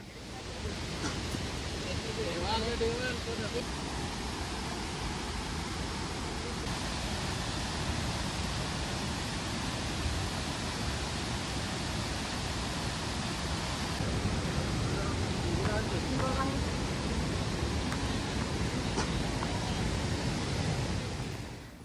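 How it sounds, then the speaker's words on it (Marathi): Roaring water at Kalmandvi waterfall near Jawhar, a dense, steady broadband rush that holds at full strength throughout, close and continuous with no break. "आम्हाला तर पाण्याचा खडखड आवाज ऐकावा लागला आहे"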